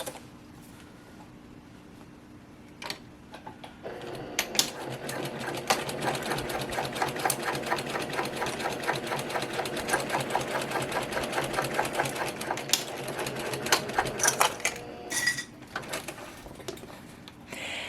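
A sewing machine stitches the seams of a quilted shoulder bag's lining panels, starting after a few seconds of quiet handling and running as a steady close rattling hum for about ten seconds before slowing to a stop amid a few clicks.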